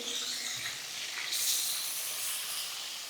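Lyata fish frying crisply in hot oil makes a soft, continuous hiss that swells louder partway through and stays up to the end, with no talking.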